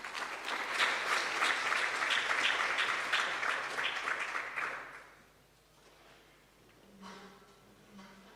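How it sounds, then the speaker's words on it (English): An audience at a Kingdom Sacco annual delegates meeting applauds in a dense, sustained burst of clapping for about five seconds, then fades to quiet room sound with a brief murmur. "let's give the patron another good clap for that wonderful session"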